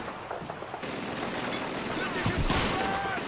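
Enemy gunfire in the World War II shooter Call of Duty 2 plays out as a dense, continuous rattle of automatic weapons with heavier thumps near the end, loud and sustained, with a voice mixed in.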